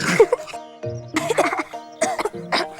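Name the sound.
cough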